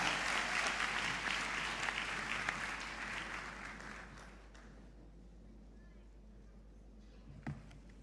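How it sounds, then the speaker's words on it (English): A commencement crowd applauds graduates of the College of Education and Leadership at Northern Caribbean University's 2023 graduation, loud and dense clapping for about four seconds that then thins out into quiet. "please give another round of applause to all our graduates in the College of Education and Leadership"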